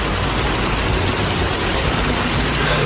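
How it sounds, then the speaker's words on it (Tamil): Heavy rain pours down steadily in Paramakudi, Ramanathapuram district, a dense, loud, continuous wash of falling water with no voices over it. "ராமநாதபுரம் மாவட்டம் பரமக்குடியில் 2 மணி நேரத்திற்கும் மேலாக கனமழை கொட்டி தீர்த்தது."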